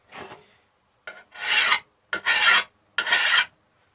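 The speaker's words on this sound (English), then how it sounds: "That's how you sharpen a lawnmower blade." A hand file is drawn across a lawn mower blade in four rasping strokes, each a short, harsh scrape with brief pauses between, close and alone.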